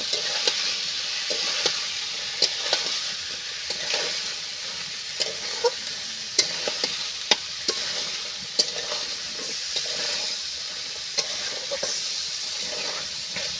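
Potatoes frying with spices in a pan for Bengali ghugni, a steady oily sizzle broken by sharp spoon scrapes and taps as the mixture is stirred, close and continuous without talk.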